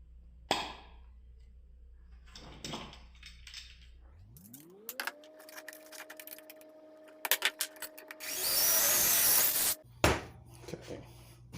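A drill bores axle holes in a pressed steel toy truck. Its motor spins up to a steady whine, then a loud harsh burst of cutting follows, surrounded by scattered metallic clicks and clinks.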